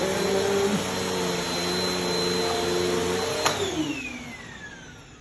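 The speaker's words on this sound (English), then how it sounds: "there can be other vacuum cleaners that could clean mattresses" A vacuum cleaner runs on a mattress with a steady, close motor whine, then is switched off about two-thirds through, its pitch sliding down as it winds to a stop.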